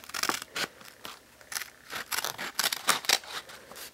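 Scissors snip through a stack of five book pages, cutting out a pumpkin shape for a fall book craft; a steady series of close, crisp paper cuts in quick irregular bursts, with no talking.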